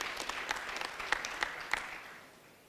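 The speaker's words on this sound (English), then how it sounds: "Another round of applause for all those comments that we have received" Conference audience applause at a biodiversity economy and investment indaba, a dense wash of clapping with a few sharper claps standing out, tapering off toward the end.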